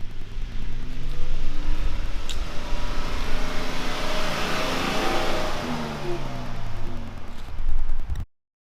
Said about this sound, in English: we're going to be doing a drive-by real quick so you get a understanding how the stock exhaust sounds